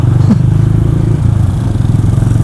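A loud motorcycle fitted with an exhaust speaker sound booster idles and revs with a droning, buzzy exhaust tone and a brief pitch shift, very close.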